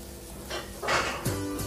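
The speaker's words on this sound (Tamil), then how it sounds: "இதை வந்து அதில் வதக்கிடுங்க நல்லா வதங்கிடுச்சு" Peeled garlic sautés in a pan, a soft sizzle broken by spatula scrapes and clinks of a utensil against the metal, all close by and without speech.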